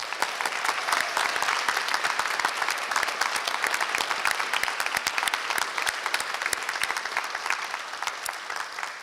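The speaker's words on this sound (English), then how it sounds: "Please join me in a round of applause for our 2018 graduates." Audience at a 2018 graduation ceremony clapping for the graduates, a dense, steady round of applause that fills the whole stretch at moderate level.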